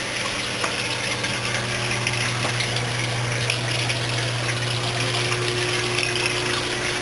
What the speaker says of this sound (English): This is a brine shrimp